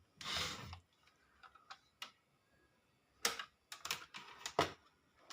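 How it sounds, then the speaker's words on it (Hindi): Multimeter rotary dial being switched to its AC range for an inverter repair, giving a few sharp plastic clicks and ticks in quick bursts, close and fairly quiet, with no talking. "मैं मल्टीमीटर को एसी रेंज पे कर लेता हूँ।"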